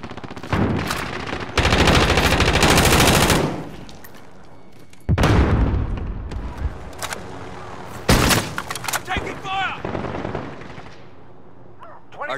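Bursts of automatic gunfire and heavy blasts from the Call of Duty Modern Warfare video game, loud and dense in several long volleys separated by brief lulls, with scattered single shots toward the end.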